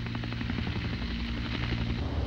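A British helicopter hovers above the moving Dutch destroyer Zeeland off the Norwegian coast in 1967, a loud steady rotor thrum and engine drone filling the whole stretch without pause.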